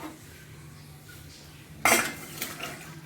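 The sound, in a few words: cooking pot being taken off the stove, clinking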